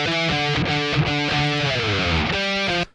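Heavily distorted electric guitar chugs through a tight, rhythmic breakdown, loud and upfront with short palm-muted bursts and brief gaps, no voices.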